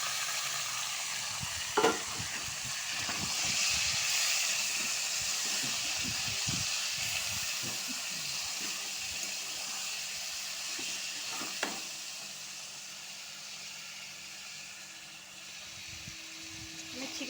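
Marinated chicken for biryani fries in a pressure cooker with a continuous, moderately loud sizzle and hiss, with scraping stirs clustered early and a few more later.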